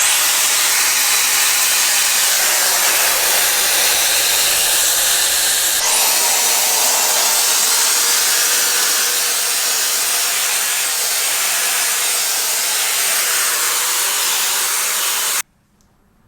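A Shark Flexstyle hair dryer blows with a steady, loud airy hiss, shifting in tone about a third of the way through as the setting changes, then cutting off abruptly near the end.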